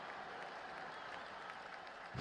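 Sold-out crowd applauding and cheering at Founders Field in a simulated baseball video game, a steady, distant wash of clapping that swells slightly at the very end.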